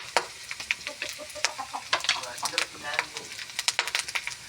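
Fried corn rice is stirred in a pan in a rural home kitchen, with rapid, bright scraping and clinking strokes and light sizzling while a person talks and chickens cluck nearby.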